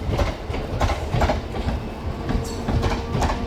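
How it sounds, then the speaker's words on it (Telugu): A MEMU train departs, rolling along with steady rumbling and rhythmic clacking of wheels, loud and close, with no voices over it. "మెమో ట్రైన్ చూడండి బయలుదేరుతుంది"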